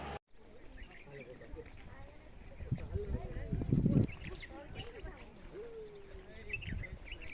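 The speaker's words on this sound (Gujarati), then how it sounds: "પંખીનો અવાજ પણ સુંદર આવે છે." Birds call outdoors in hilly country near a dam during the monsoon season, with chirps and hoot-like notes scattered faintly in the distance. Someone speaks throughout over them.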